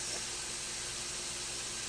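Tortilla chips sizzle while cooking for nacho appetizers, giving a steady, loud, hissing frying noise that fills the whole stretch without a break and with no voice over it.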